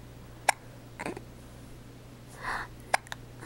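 A baby hiccups, with a few brief sharp hiccups spaced about two seconds apart, faint and close, with soft breathy sounds between them.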